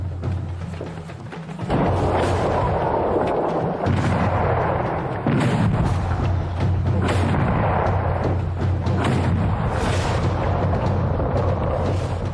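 Heavy booming shots from smaller cannon bombarding Vienna during the 1529 siege go off repeatedly, with dull thuds and a constant low rumble beneath them.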